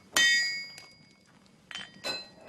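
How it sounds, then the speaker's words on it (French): Hammer blows on a metal piece being straightened in a workshop: a loud ringing clang, then a fainter strike and two more quick metallic hits, each with bright ringing overtones, in a quiet room. "quelques bons coups de marteau pour rectifier la pièce"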